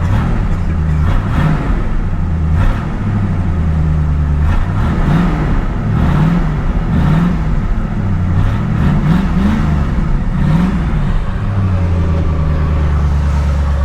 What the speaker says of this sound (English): You can hear the carburetor is still cutting out.